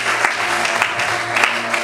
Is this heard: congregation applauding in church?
yes